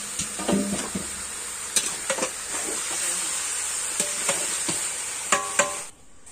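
Marinated chicken coated in ginger garlic paste sizzles and hisses steadily in a pot for biryani, with scattered stirring clatters and sharp utensil knocks over the continuous frying.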